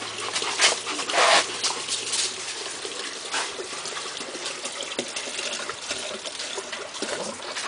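Dog on a farm whimpering softly in short, repeated whines, close by, over trickling water and light rustling.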